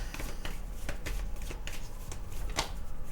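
Tarot cards are shuffled by hand up close in a quick, repeated riffling patter with sharp snaps, continuous throughout with no speech.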